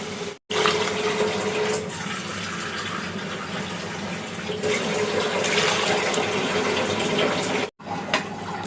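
Broth poured into cooked-down masala for hilsa and brinjal curry, a steady loud rushing splash of liquid lasting several seconds between brief silent gaps, near and alone.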